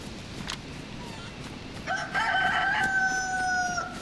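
A rooster crows loudly and close in the video game DayZ, one long drawn-out call following a quiet stretch with a faint click, no voices over it.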